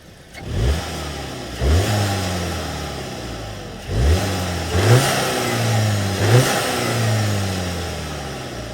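A Volkswagen GLI engine with a stage two upgrade and upgraded intake revs sharply several times, each rise and fall separated by idling, loud and close with a throaty tone.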